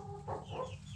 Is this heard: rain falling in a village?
no